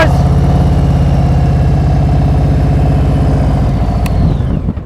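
A motorcycle engine holds a steady, even RPM through a slow U-turn, a loud continuous throb with an unchanging pulse that eases slightly at the end.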